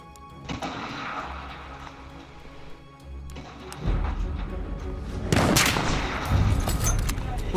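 Gunfire from the Battlefield 1 beta video game: repeated sharp shots and bursts, with heavier booming volleys and crashes building toward the end, dense and loud with some voices mixed in.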